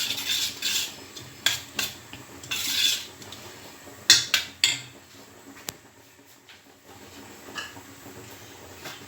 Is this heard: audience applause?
no